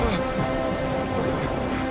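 Heavy pouring rain at night, a steady dense hiss that fills the whole clip without pause, with a faint tone humming underneath and no clear thunder.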